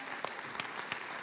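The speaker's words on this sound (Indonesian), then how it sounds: "tepuk tangan dong sekali lagi dong buat setiap teman-teman kita" A church youth service audience applauds in a brief, continuous wash of clapping with a few sharper claps standing out, fairly faint and distant.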